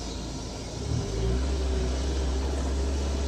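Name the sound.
Honda Civic with straight-piped exhaust, ripped muffler, revving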